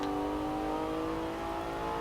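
A Porsche 911 (992) in Forza Horizon 4 accelerates with a smooth, steady engine whine, close and continuous, its pitch climbing slightly over a short burst with no talk.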